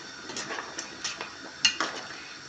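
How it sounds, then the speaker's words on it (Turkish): A utensil stirs a squash dish, scraping and clinking against a metal pot in a series of light, irregular strokes, close by and fairly quiet. "Böyle bir karıştıralım."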